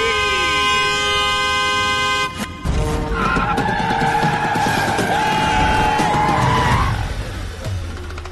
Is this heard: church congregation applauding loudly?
no